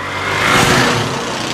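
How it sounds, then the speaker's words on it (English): A Ryobi lawn mower, upgraded with swapped 24-volt batteries, runs with a steady, loud motor whir that swells slightly and holds. "testing the lawnmower."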